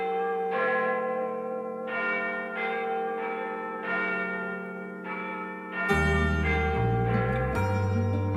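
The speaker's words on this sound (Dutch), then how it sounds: "terwijl ik Big Ben in de verte hoor slaan" Big Ben's great clock bell tolls across London, a run of slow, evenly spaced strokes, each ringing on. Near the end a louder, fuller band of sound joins and briefly overlaps the bell.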